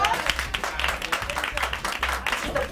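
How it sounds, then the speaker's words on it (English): An indoor audience at a meeting breaks into brief applause, a dense patter of clapping mixed with murmuring voices. "give them a round of applause"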